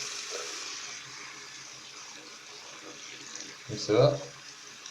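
Tap water runs faintly while a cleaned Irish flute is rinsed, with a brief louder splash near the end and a short spoken word over it.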